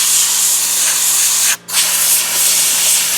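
A Harbor Freight portable soda sand blaster gun, fed by an air compressor, lets out a loud, close, steady hiss of spraying air and media that cuts off briefly partway through and then resumes.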